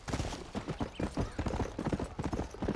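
Rapid rhythmic clip-clop of galloping horse hooves in Red Dead Redemption, close and steady, with no talking.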